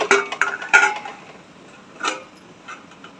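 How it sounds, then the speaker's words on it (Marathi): A lid goes onto a pot of besan pithla in a home kitchen, giving a few light metallic clinks and taps in quick succession, then a single brief clatter a moment later, close by with no talk. "आता आपण झाकण ठेवून पाच मिनिटं शिजवून घेऊया"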